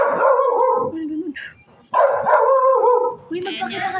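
A dog outdoors barks in short bursts, two clusters of yips and barks separated by a brief pause, close and fairly loud, mixed with people talking nearby.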